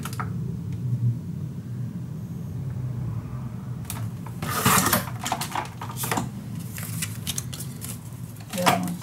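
Scissors or a paper trimmer cutting a sheet of scrapbook paper into four sections, giving crisp crackling slices and paper rustles over a low room rumble.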